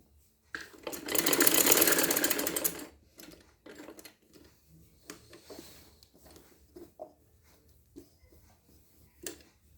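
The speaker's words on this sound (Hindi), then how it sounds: "ये देखिए, यहाँ से मैं डबल सिलाई कर रही हूँ।" Sewing machine stitching a double seam along neckline piping, a loud dense whirring burst of rapid needle strokes near the start, then scattered quieter clicks and short mechanical taps, close by with no speech.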